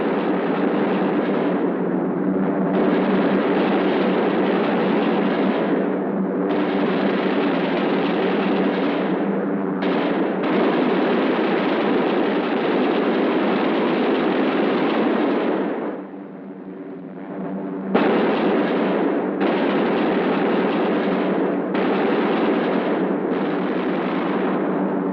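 B-17 and B-24 bombers on a 1944 bombing mission over Germany produce a dense, loud, continuous roar of engines and blasts with rough surges, which dips briefly before swelling back.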